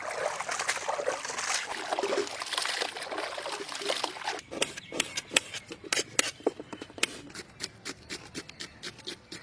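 Water splashes and trickles steadily over curry leaves being washed by hand for a chicken curry, then gives way to sparse wet clicks and drips as the rinsing slows.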